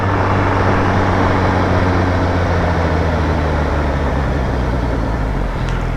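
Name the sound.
loud truck tires passing on road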